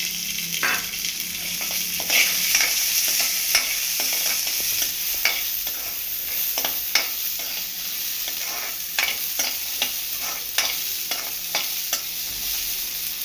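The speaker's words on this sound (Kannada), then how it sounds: "ಈ ಥರ ಹಂಗೆ ಫ್ರೈ ಮಾಡ್ತಾ ಇರಬೇಕು." Green peas stir-fried in a pan for paratha filling: a soft continuous sizzle broken by frequent sharp scrapes and clicks of a spatula against the pan, close up with no talking.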